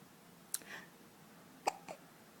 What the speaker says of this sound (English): Oh, those awful hiccups.